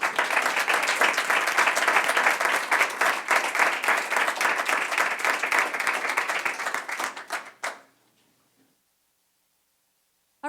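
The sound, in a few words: audience applauding the instructor at a school board meeting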